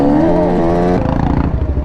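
Old-school three-wheeler engine at a dirt bike stunt lot, running loud and close with a harmonic drone that holds steady for about a second, then breaks into a rougher, choppier rumble.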